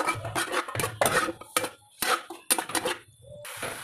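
Spices including Kashmiri red chilli get stirred in a cooking pan, a series of loud, close scrapes and clatters of a spoon against metal in uneven bursts with brief pauses.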